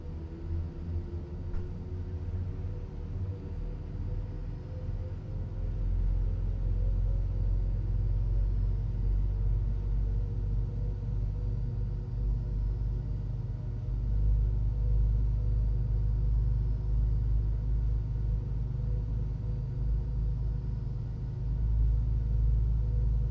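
Fenix A320 airliner jet engines running in the MSFS 2024 flight simulator, both started at the gate: a steady, loud low rumble with a constant whine that holds throughout, no talking.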